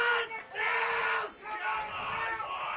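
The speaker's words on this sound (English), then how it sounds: "Crowd really trying to get South Hobart over the line in this one." Football crowd at a preliminary final cheers on South Hobart against Kingborough, a sustained roar of yelling voices swelling and dipping twice, fairly loud and spread across the ground.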